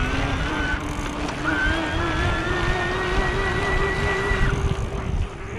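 A Bosch Performance Line motor on a Raleigh Tokul iE electric mountain bike with big knobby tires, spun to high cadence at a high assist level. It gives a steady, rising whine over rolling tire and wind noise.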